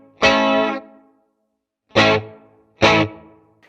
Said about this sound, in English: this is the chorus and reverb